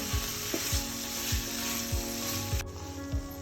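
Squid pepper fry being stirred in a hot pan, a loud continuous sizzle broken by regular scraping strokes of the spatula roughly every half second, close and alone.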